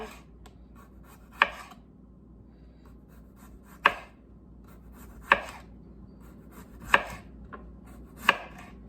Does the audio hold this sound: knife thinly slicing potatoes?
yes